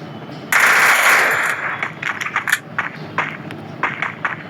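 Rapid automatic gunfire from a gun in the Free Fire mobile game's training ground: a dense, loud sustained burst followed by shorter clustered volleys and single shots.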